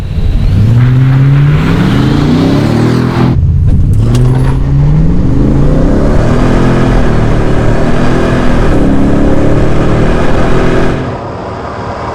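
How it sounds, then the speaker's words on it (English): Two Ford F250 pickups with 7.3L gas V8s, one making 430 hp and one 700 hp, rev hard at a drag race. Loud engine notes climb repeatedly in overlapping waves, then drop to a lower idle near the end. "We'll rev it up equally to like 1500."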